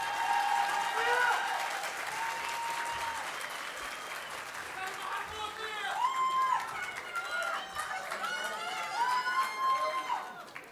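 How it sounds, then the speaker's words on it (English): Graduation audience at an international school ceremony giving the graduates a big round of applause with cheering, sustained clapping throughout, a voice speaking over it and faint whoops rising near the end. "I think they deserve another big cheer because they look amazing."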